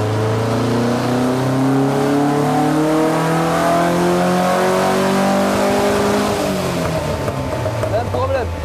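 Car engine pulling away and driving to warm up, a loud close steady drone with rising and shifting tones as it gains speed, and a gear change near the end.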